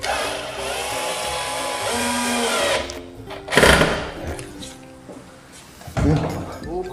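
A power driver whines steadily as it tightens screws on a door closer, then stops, with a couple of short bursts and clanks afterward, loud and close.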